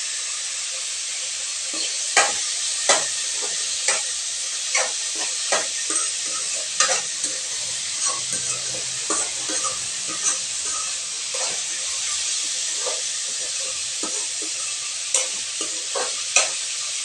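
Curry leaves sizzle in hot oil in a pan for egg pepper podimas, a steady loud frying hiss broken by sharp pops and crackles and occasional stirring scrapes, close up with no talking.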